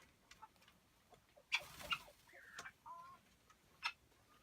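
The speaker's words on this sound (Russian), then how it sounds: "Цесарочки вот у нас одни." Guinea fowl of two breeds on a farm give faint, scattered calls, a few short sharp cries and chattering notes spaced out against a quiet background.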